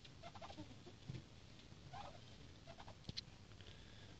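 Hens cluck softly in scattered short bursts against a quiet background hiss, a few sharper clucks standing out near the end.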